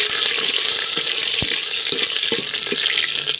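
Green chili, bay leaf, ginger and red chili frying in hot oil make a loud, continuous crackling sizzle, broken by sharp pops and spatters scattered across the few seconds.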